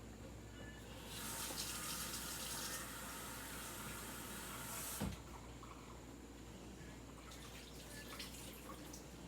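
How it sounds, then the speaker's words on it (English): Tap water runs steadily into a sink while basil and parsley are rinsed, with a soft clunk midway before the flow continues more faintly. "I'm just rinsing the basil and the parsley off, guys."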